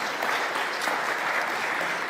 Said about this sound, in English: I would like us to give them a round of applause for those remarks,